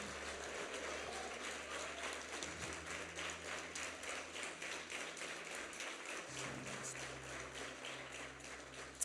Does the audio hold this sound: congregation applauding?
yes